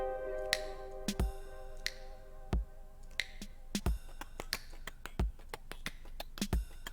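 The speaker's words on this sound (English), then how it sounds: "some of these snaps are a little loud" Finger snaps land in a steady rhythm through a music track over a sustained synth-like tone, each snap sharp and fairly loud, some standing out louder than others; no talking.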